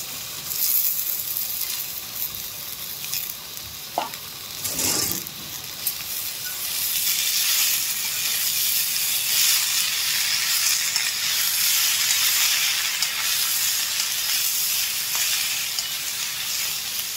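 Soybean chunks, bottle gourd, snake gourd and potato fry in hot oil. A loud steady sizzle and hiss runs close throughout, with a couple of sharp clinks from stirring near the start.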